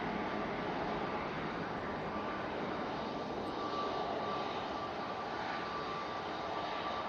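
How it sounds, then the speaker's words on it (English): EasyJet Airbus A320-200 departing Manchester Airport for Antalya in stormy weather, a steady, broad jet engine roar holding at even loudness throughout with no voices. "let's get this EasyJet going out. Off to Antalya with that A320-200"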